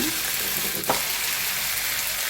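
Onions and coconut sautéing in a pan for a prawn and okra curry give a steady, hissing sizzle, with one brief stir or clatter partway through and no talk.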